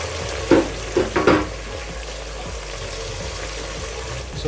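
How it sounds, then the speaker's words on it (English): Chopped onion tipped into a pan of frying garden egg stew, giving a few sharp, close splashy bursts followed by a steady low sizzle that continues on its own. "the next thing you're going to be adding is your chopped onion"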